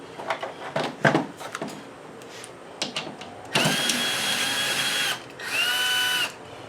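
A power drill bores through metal while a solar LED flood light is mounted on a barn shed, with two loud whining bursts after a stretch of scattered clanks and handling knocks.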